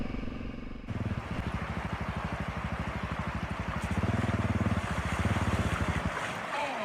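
Suzuki DRZ dirt bike engine revving hard for a wheelie, a loud pulsing single-cylinder drone that climbs and swells in surges, heard close with wind noise around it.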